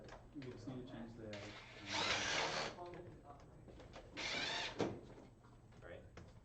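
A power drill whirs in two short bursts among people talking in a robotics build workshop, the motor spinning up for about a second each time close by.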